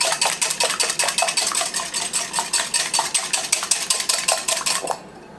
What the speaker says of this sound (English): I'm going to add 2 tablespoons of melted butter and whisk it to incorporate it